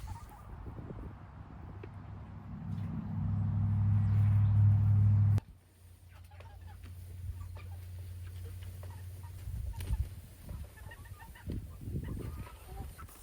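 Large flock of Cornish Cross meat chickens in field chicken tractors, a steady low murmur of clucking with a louder surge of mechanical rumble before settling back to quieter ambient flock sound.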